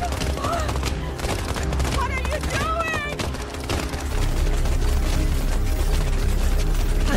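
Gunfire rattles in the video game Life is Strange 2, a dense, continuous volley mixed with music, whistling tones and voices, growing louder and more sustained toward the end.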